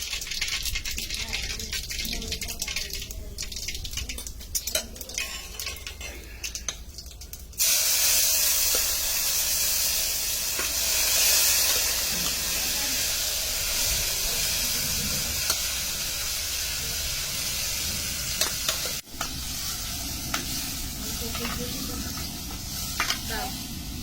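Cumin and mustard seeds hit hot oil in a pan with garlic ready nearby, breaking into a loud, steady spitting sizzle after a quieter start, continuing close up for several seconds.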